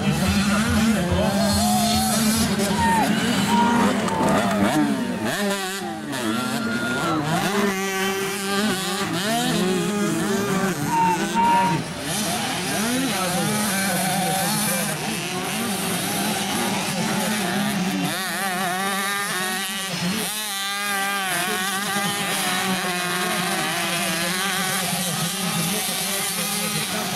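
A pack of 65cc motocross bikes racing on a dirt track in Indaial, buzzing two-stroke engines revving and shifting continuously, loud and close, with overlapping whines rising and falling throughout.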